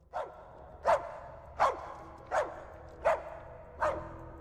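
Six regular barks repeating at a steady rhythm as a video game dog keeps barking while the trigger is held, each bark short, moderately faint and alone.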